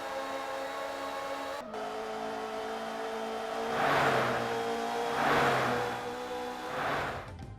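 A fast car in a non-realistic video game revs loudly with a bright, buzzy engine tone, rising in three surging swells toward the end after a brief dip, with no talk.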